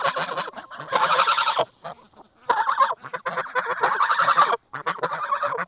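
A flock of geese honking loudly and close by, with overlapping nasal calls in bursts and short pauses between them, heard at a backyard with chickens and ducks including a blue runner, and no voices over them.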